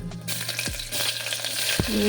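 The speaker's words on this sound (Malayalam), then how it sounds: "ആ പച്ചമുളക് ഞാൻ വഴറ്റാന്നാണ് പറഞ്ഞത്" Green chilies sautéing in a pan, a steady close sizzle with occasional stirring scrapes and clinks of a utensil, no talking.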